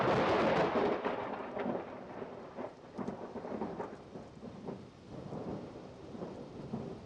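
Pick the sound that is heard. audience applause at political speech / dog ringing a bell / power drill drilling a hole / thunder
thunder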